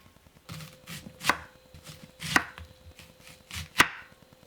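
A knife cuts through an onion into thick rings on a cutting board, three crisp slicing chops spaced about a second apart, close and clear with faint handling sounds between.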